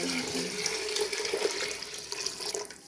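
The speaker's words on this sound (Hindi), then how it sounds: "अब डालती हूँ दाल के मुताबिक मैंने 1 कटोरा पानी का।" A bowl of water is poured into a pot of moong and masoor dal with tomato, ginger-garlic paste and green chilli, a steady close splashing pour lasting a few seconds.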